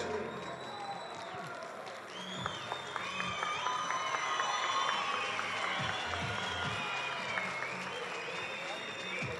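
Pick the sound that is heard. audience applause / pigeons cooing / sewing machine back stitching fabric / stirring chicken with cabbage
audience applause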